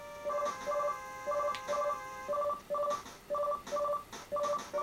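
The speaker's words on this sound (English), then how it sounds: "The phone is ringing." A telephone rings in the Mega Man 9 video game as a repeating electronic two-tone trill, with short steady bursts and brief gaps between them. The sound is clear and alone, with no talking.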